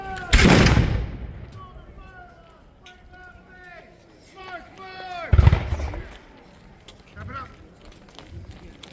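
At a Revolutionary War battle reenactment of Bound Brook, New Jersey, a loud, close flintlock Jaeger rifle shot cracks out at the start and a second follows midway, with shouted commands and voices between the shots.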